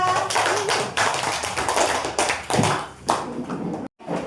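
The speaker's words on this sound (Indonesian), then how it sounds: "Tepuk tangan untuk kelompok 2." A classroom of students claps for a student group after a discussion, a dense run of many hands that fades and breaks off near the end.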